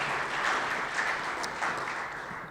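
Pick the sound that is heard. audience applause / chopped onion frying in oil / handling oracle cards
audience applause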